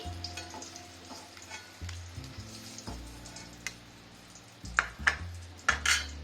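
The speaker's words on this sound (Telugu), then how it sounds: "ఎగ్స్కి ఇలా ఆయిల్లో వేయించుకుంటే తీసేస్తాను" Eggs frying in oil in a kadai, a continuous close sizzle broken by scraping spoon stirs and a few sharp metallic clinks of utensil against the pan near the end, no voices.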